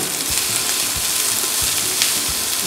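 Chopped onions frying in a pan with dry red chillies for a Kerala-style onion theeyal, giving a loud, continuous close sizzle and crackle with faint irregular low knocks, no voices.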